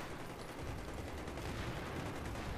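Dense, continuous gunfire from the video game Battlefield 3, sustained bursts filling the whole stretch at steady loudness with no pauses and no talking.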